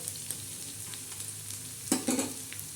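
Onion fries on a hot griddle with a soft continuous sizzle, faint and close, with a few brief louder crackles and stirring scrapes near the end.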